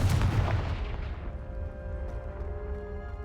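A Confringo spell in a wizarding video game goes off as a loud booming blast that rolls away into a fading rumble and ringing tail.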